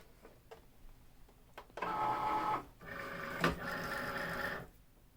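A Cricut cutting machine pulls in a mat carrying oversized iron-on vinyl, giving a couple of brief motor whirs of mechanical feed noise, moderately close, after a few faint clicks.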